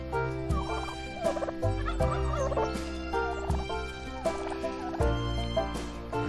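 Chickens cluck and squawk in a henhouse in the farming video game Farm Manager 2018, with repeated fowl calls over a dense, steady backdrop of tonal game sound.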